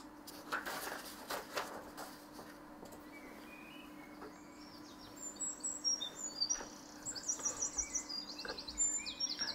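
Chickadees chirp outdoors in a garden, bursts of high, quick calls that come in scattered clusters and grow busier toward the end, heard faintly over soft background hiss.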